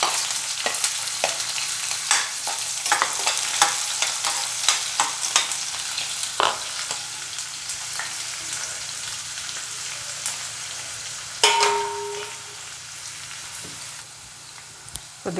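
Two onions frying in hot oil with already-toasted cumin and mustard seeds, a steady crackling sizzle with occasional stirring clinks, loud and close throughout, no voices.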